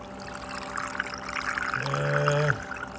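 Water rushes steadily through a gold sluice while mining beach stockpiles, a constant pouring wash joined near the end by a brief tonal hum that swells and then cuts off.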